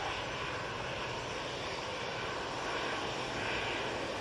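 An airliner departs Manchester Airport bound for Dublin, its engines making a steady, even, broadband roar heard from a distance without a break.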